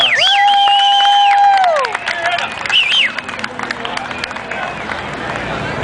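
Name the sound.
round of applause and cheering for Bob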